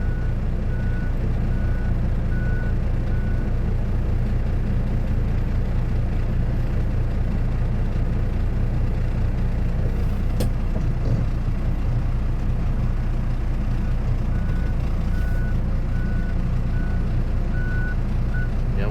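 An Isuzu factory truck idles with a steady low engine rumble while a reversing alarm beeps in a regular repeating pattern throughout, with no talking.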